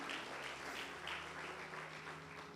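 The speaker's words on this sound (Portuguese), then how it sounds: "Então aplauda Jesus de novo," A church congregation applauds Jesus in steady, continuous clapping, faint and somewhat distant, under a low sustained hum.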